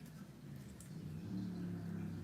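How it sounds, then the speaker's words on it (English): A low engine rumble swells steadily, like a motorcycle drawing closer, faint and muffled at a distance. "I can hear his motorcycle."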